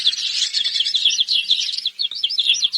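A small bird in a Hindi cartoon chirps in a rapid, continuous run of high, bright tweets, loud and close, with nothing else heard beneath it.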